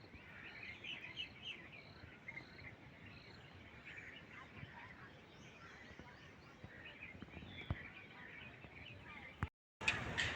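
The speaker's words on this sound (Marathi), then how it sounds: "दुपारची वेळ आहे तरी पक्ष्यांचे आवाज तुम्ही ऐकू शकता." Faint birds chirp and tweet on and off in the distance on an afternoon in a rural village, a light scattering of calls over quiet outdoor ambience.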